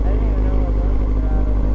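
A motorcycle engine revving slightly high while a beginner rider works the throttle and clutch, a loud, steady, close engine drone.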